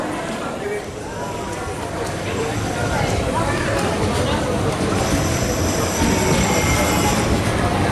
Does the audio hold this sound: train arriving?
yes